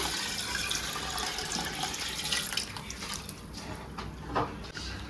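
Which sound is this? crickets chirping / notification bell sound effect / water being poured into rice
water being poured into rice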